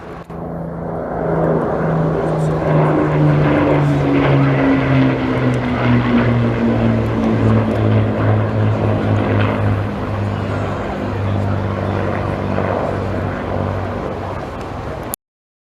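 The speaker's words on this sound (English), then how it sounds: "Spitfire and Hurricane LF 363 coming through for the final pass before they depart to Gloucester" A Spitfire and a Hurricane, piston-engined propeller warplanes, make a loud low pass at an airshow, their deep droning engines sliding downward in pitch as they go by, sustained and close before cutting off abruptly.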